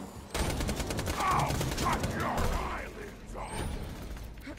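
Rapid SMG fire from a Borderlands 2 shootout crackles on and off over several seconds, mixed with mechanical clatter and a busy game soundscape, with voices faintly underneath.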